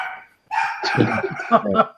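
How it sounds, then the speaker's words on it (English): A dog barks repeatedly in the background during an online group call, short yips breaking through while several people talk over it. "Mute your mic till the dog settles down."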